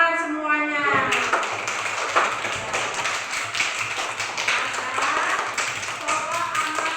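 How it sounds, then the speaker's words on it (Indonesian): A classroom of young children breaks into a round of hand clapping after a brief adult voice, the claps dense, uneven and overlapping, continuing close and fairly loud for several seconds. "Tepuk tangan semuanya."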